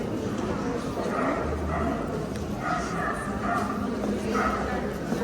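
Several dogs bark and yip in short bursts, with a whimper, at an animal adoption point at a winter fair at VDNH in Kyiv, amid background chatter from people nearby.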